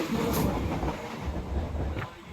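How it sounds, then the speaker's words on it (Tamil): A local train headed for Tambaram in Chennai, heard from on board. The carriage gives off a steady loud rumble with rattling and a few light squeaks. No one speaks over it. "தாம்பரத்துக்கு ட்ரெயின் ஏறிட்டோம் அப்படியே ட்ராவல் பண்ணிட்டு வந்துட்டு இருக்கிறோம்"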